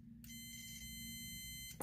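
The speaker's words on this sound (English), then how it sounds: "use my multimeter, have it set into continuity mode." A multimeter in continuity mode, probing pins on a Super Nintendo game cartridge board, gives one steady electronic beep of about one and a half seconds over a low hum, then cuts off with a brief click.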